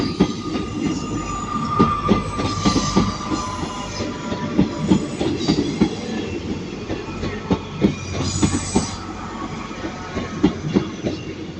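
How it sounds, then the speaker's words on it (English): A slightly delayed TransPennine Express service to Manchester Airport pulls into platform 13 at Manchester Piccadilly, with a steady rumble, rhythmic wheel clatter and brief high squeals of wheels against rail throughout. "Train now arriving onto platform 13, your 1328, slightly delayed Transpennine Express service to Manchester Airport"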